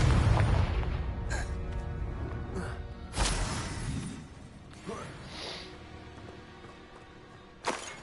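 Confringo fire spells and other spellcasting in the Hogwarts Legacy video game produce a series of muffled booms and bursts, strongest at the start and fading to scattered softer pops and crackles.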